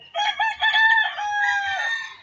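A rooster crows loudly and close by on a chicken farm, one long drawn-out call with a clear rising then sustained tone, with no talking over it.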